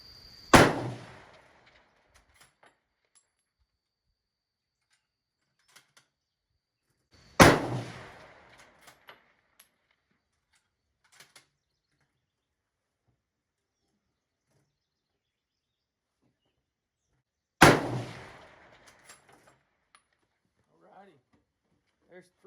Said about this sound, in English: There's 3 shots at 600 yards.